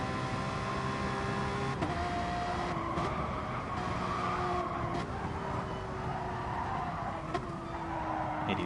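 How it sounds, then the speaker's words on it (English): Porsche 911 RSR race car in a racing video game, its loud engine droning steadily with rising and falling pitch through gear changes, running continuously throughout. "Hades, of course, in the 911 RSR. One of the loudest cars in the game."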